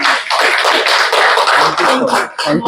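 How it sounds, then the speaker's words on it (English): Applause from an indoor audience at an awards event, dense broadband clapping that fills the room at close range and continues steadily with brief dips. "Round of applause for the moderator."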